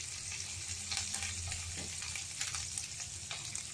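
Curry leaves and spices fry in oil with salt for a masala dosa filling, making a steady, soft sizzle with light stirring scrapes throughout.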